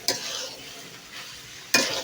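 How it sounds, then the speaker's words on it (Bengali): Potatoes for Bogura-style alu ghati fry and sizzle in a pan, with two loud bursts of a spatula stirring and scraping the pan over a steady hiss. "এই আলুটা দিয়ে কিছুক্ষণ ভালো মতো ভাজা লাগে"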